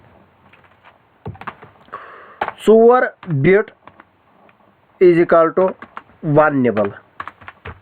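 Rapid keyboard typing and computer clicks during a computer-science class lesson on bits and nibbles, close and crisp, with someone speaking Hindi in bursts over the keystrokes.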